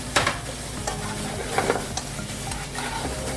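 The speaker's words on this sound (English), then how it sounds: "Saute that up until it's nice and hot, about 3-4 minutes." Cooked shrimp sauté with garlic in a hot pan for garlic shrimp pasta, giving a continuous close sizzle with repeated scraping stirs and a few louder clinks.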